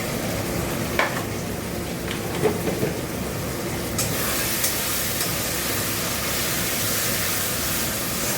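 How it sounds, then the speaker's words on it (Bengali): A curry with chilli, fried down with water in a pan and stirred, giving a steady close sizzle with a few soft scraping clicks throughout and no talking. "জল দিয়ে কষছি।"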